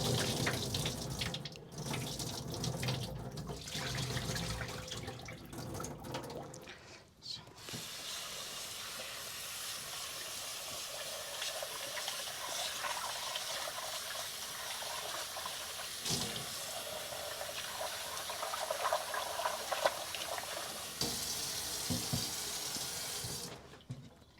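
A kitchen tap runs in a steady, full hiss of flowing water over a sink while soya chunks are rinsed. The water changes character slightly as the stream is handled, with no voices.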